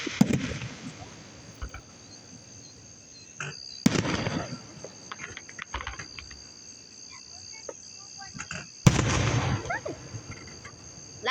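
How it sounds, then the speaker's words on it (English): Loud fireworks exploding outdoors at a firework show, three sharp booms spaced several seconds apart with crackling tails, over a constant chirp of crickets. "Those are the loud fireworks."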